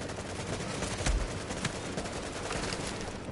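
Gunfire in the video game The Division, with scattered loud shot cracks over a dense, noisy backdrop of continuous game action and muffled blasts.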